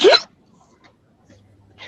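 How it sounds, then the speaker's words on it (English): A single sharp hiccup, short and close, followed by near silence and faint small noises. "I got the hiccups"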